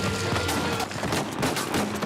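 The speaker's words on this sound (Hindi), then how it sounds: "अब बताओ इधर इतनी इतनी गोलियां पड़ रही हैं" Gunfire in the video game Uncharted 4: a dense fusillade of shots crackles in rapid bursts over a busy, noisy game mix.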